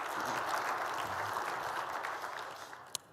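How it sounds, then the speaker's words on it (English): Convention audience at a national franchise gathering gives a round of applause, a steady, moderately distant wash of clapping that gradually thins out, ending with a single sharp clap. "Give yourselves another round of applause"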